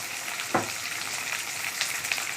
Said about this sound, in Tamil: அப்போ தான் வெங்காயம் சீக்கிரமாக வதங்கும்